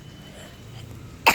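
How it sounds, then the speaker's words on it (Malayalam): After a near-silent stretch, a single short, sharp cough bursts out close by at the very end, from someone with a slight cough. "എനിക്ക് ചെറുതായിട്ട് ചുമ ഉണ്ട്"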